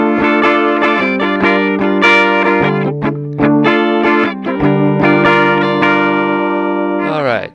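Gibson Les Paul electric guitar through a Red Plate amp on the bridge pickup with a Blackloop humbucker, strummed bar chords ringing out in several loud, sustained hits with short gaps, ending in a quick scrape.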